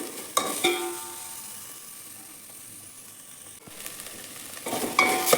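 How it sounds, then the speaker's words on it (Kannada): Spices and tomato for a horse gram sambar frying in a pan, a steady sizzle with stirring scrapes at the start and end and a quieter hiss between, close by with no voices. "ಫ್ರೈ ಮಾಡ್ಕೊಳ್ಳಿ ನೀಟಾಗಿ ಸ್ವಲ್ಪ ಕಲರ್ ಚೇಂಜ್ ಆಗೋವರೆಗೂ"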